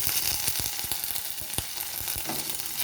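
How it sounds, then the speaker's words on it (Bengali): Ginger garlic paste frying with onions in a pan, a constant bright sizzle with repeated stirring scrapes and clicks from a spoon, moderately loud and close, with no voices. "যতক্ষণ না পেঁয়াজটা একটু লাল হচ্ছে ততক্ষণ আমি পেঁয়াজটাকে ভেজে নেব"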